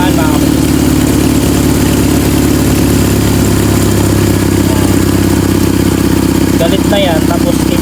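A Toyota 5K engine fitted with headers runs steadily at a loud, close idle with a deep rumbling exhaust, staying constant throughout while a voice talks over it.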